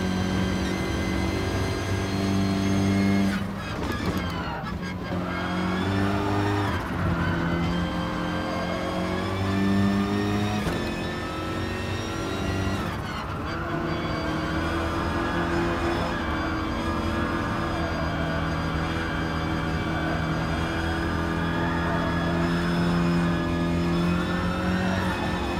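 Honda race car in Gran Turismo Sport passing amid other racing cars, a steady loud engine drone with shifting pitch and a brief swell as it goes by, continuous throughout with no talk.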